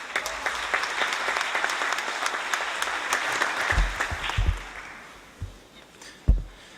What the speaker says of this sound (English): Please let us welcome Ambassador Hetzi with a round of applause